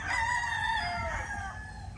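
A gamefowl chicken (a Sweet Gray over Yellow Legged Hatch cross, among pullets) gives a single drawn-out, crow-like call, close and clear, over faint background noise, with no talking.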